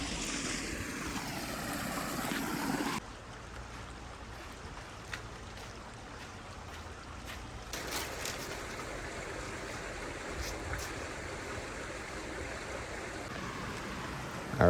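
A small trailside waterfall on the way up to Castaic Falls in Angeles Forest, heard as a steady broadband rush of falling water, close and continuous with no voices.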